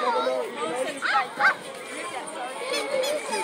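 A dog at a flea market barks a couple of times, short yips mixed into steady outdoor crowd chatter and voices, moderately close but partly masked.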